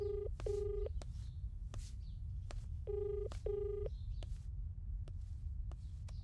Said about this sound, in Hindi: भाई रिंग जा रही है।